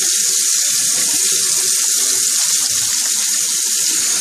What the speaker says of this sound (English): I'll wash that off my hands.